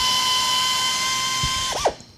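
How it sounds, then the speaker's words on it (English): A power tap cuts threads into a freshly drilled number 4 hole in a metal plaque with cutting fluid, a steady high motor whine running close and loud, then winding down with a brief falling sweep at the end. "Just drilled a quick number 4 hole. Just throw some fluid on there and power tap this bad boy"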